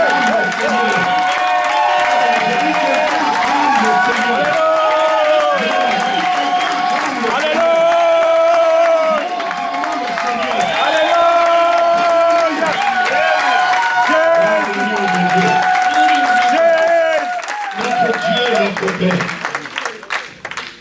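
A church congregation applauds and cheers to welcome a preacher, with steady clapping and crowd noise lasting throughout, mixed with loud voices and music-like sustained tones before fading near the end.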